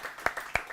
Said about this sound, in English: One more round of applause for Vito and Amy.